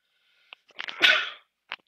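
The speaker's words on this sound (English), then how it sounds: "hang on, I'm about to sneeze" A single person sneezes up close, with a quick sniff and short inhale leading into one sharp burst, followed by a brief sniff afterward.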